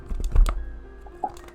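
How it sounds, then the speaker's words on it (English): Dry papery rustling with a few quick clicky taps, like books being rifled through during a tabletop role-playing game session; close, brief and busiest near the start, with no talk over it. "the rifling of books"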